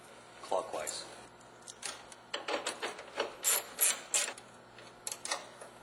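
Phillips-head screws being turned clockwise to fasten a signal light on a GMC Yukon or Chevy Tahoe: a run of short rasping, ratchety clicks in an uneven rhythm, fairly close and moderately loud, with no talking over them.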